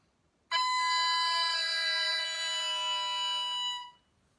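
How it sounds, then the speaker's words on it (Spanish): An oboe double reed, cane bound with cork and a slightly metallic base, is blown alone without the instrument, giving one sustained, bright, buzzy squawk of about three seconds before stopping. "Cuando introducimos aire en la caña, las dos palas vibran"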